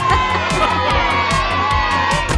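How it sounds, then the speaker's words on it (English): Cartoon pigs Peppa and George shout with excitement, a short loud burst of overlapping high-pitched cheering and whooping over a continuous background, up close. "Peppa and George shouted with excitement."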